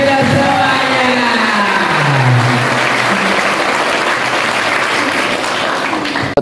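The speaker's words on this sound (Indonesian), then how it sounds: "Tepuk tangan untuk semuanya." Loud, sustained applause from a crowd of students at a pesantren, a dense continuous clatter of clapping with vocal cheers, cutting off abruptly at the end.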